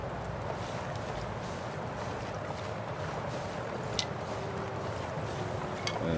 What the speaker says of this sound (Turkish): Oo, o nasıl bir rüzgar ya?